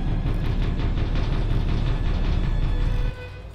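Heavy elevator machinery in a horror video game rumbles and rattles steadily with a low mechanical drone, then drops to a quieter hum near the end; no talking.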